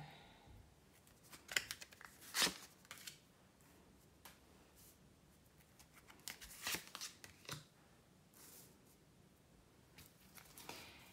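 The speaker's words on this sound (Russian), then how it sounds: "Итак, я буду выкладывать 4 позиции, а вы выбираете свою карту." Tarot cards are laid out one by one on a table, giving soft slaps, shuffles and brief crisp clicks spaced irregularly, quiet and close.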